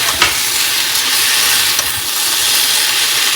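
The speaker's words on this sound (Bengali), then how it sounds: "এটা এখন ঢেকে ঢেকে ভাজা করে নিচ্ছি" Potatoes and tomatoes fry in a covered pan, giving a loud, steady, close sizzling hiss throughout with a couple of faint clicks.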